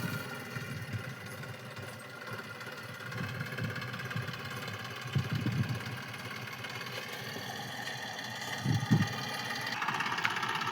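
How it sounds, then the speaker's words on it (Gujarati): A tractor engine idles steadily after delivering sugarcane to a farm, a low continuous rumble with a few heavier knocking bursts, no voices over it. "જો પહોંચી ગયો ટ્રેક્ટર વાડે"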